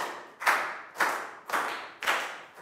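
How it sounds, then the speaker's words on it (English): Five sharp hand claps in an evenly spaced, deliberate rhythm from a group finishing a classroom movement activity, each crisp and fairly close with a short room decay between them. "to finish, we'll do five claps."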